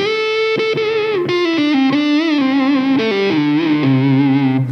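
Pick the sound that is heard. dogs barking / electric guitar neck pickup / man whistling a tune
electric guitar neck pickup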